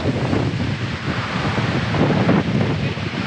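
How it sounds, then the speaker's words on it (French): Wind and sea waves on the Peloponnese coast of Greece make a loud, steady roar with surging swells and heavy microphone buffeting, with no voices. "Regardez les vagues."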